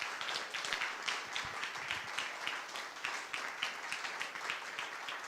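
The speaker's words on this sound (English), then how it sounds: "if we could give him a big round of applause" Audience applause after a talk on nuclear power, a steady wash of many hands clapping at moderate distance, sustained for around five seconds with no speech.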